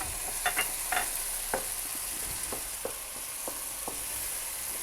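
Green chillies frying in a pan for achari baingan, a spicy, tangy brinjal pickle. A steady soft hiss runs throughout, broken by a handful of light stirring clicks and taps, fairly close and quiet.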